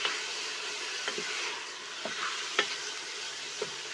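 A 250-gram batch of onions fries in ghee for a lamb karahi, giving a steady close sizzle and hiss with a few soft stirring clicks and scrapes scattered through, and no voices.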